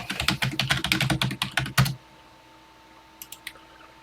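Keys clatter on a TI-99/4A home computer keyboard: a rapid, close burst of typing for about two seconds, then quiet and a few isolated keystrokes.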